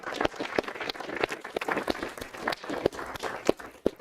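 Applause at a school board meeting for a boys' indoor track athlete, scattered claps from a modest crowd, moderately close and steady throughout without talk.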